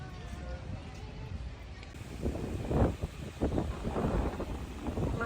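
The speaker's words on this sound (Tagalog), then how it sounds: "Mahangin lamang sa labas." Steady wind rumble blowing across the microphone outdoors by Casa Milà in Barcelona, gusting louder partway through, with low buffeting and a faint hiss.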